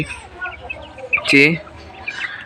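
Eight quails kept in a large cage, about eighteen by twenty-four, chirp and call close by, with one louder, rising call in the middle over a low background murmur.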